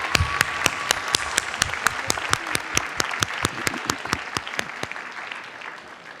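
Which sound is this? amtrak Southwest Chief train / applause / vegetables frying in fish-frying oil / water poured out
applause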